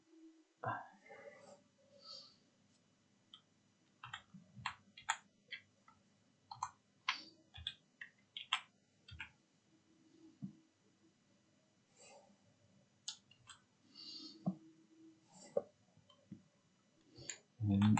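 Keys tapped on a computer keyboard in scattered bursts of light clicks separated by pauses, quiet and close, with a faint voice now and then.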